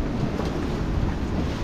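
On a sailboat sailing upwind, steady wind rushes and buffets hard across the microphone in a dense, continuous roar. Water noise runs underneath and no one speaks.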